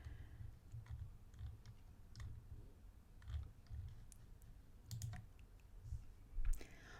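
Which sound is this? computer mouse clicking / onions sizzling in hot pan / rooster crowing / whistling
computer mouse clicking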